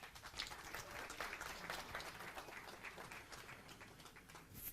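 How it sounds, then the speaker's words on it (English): Steady, dense applause from a crowd at a women's 10m standing air rifle shooting final, continuous throughout with no talking, sounding somewhat distant and even in level. "Give me your applause for everybody."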